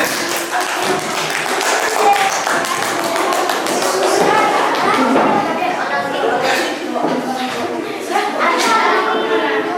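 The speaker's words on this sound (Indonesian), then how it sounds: "Ya, baik, tepuk tangan" Students in a classroom clap for a presenting group, a lively, uneven patter of hands close by with scattered thumps and taps, mixed with children's voices and talk.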